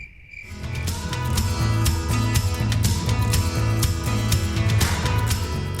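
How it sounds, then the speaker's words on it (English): Crickets chirping as a sound effect, a loud, dense, steady pulsing trill that starts abruptly and continues evenly, with no voices over it. "stop hearing the sound of crickets all the time"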